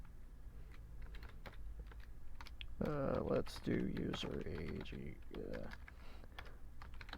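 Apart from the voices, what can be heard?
typing on a computer keyboard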